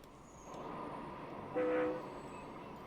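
Trains running in the game Transport Fever 2: a steady rail rumble with a brief horn toot in the middle, no talking.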